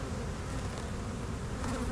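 Honey bees buzz in a steady, dense drone at a hive set out for almond pollination, the sound close and continuous with no pauses.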